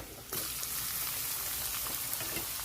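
Onion dropped into hot oil already frying garlic and bay leaf: a sudden jump into a loud, steady crackling sizzle that continues evenly close up, with scattered spitting pops and no talking.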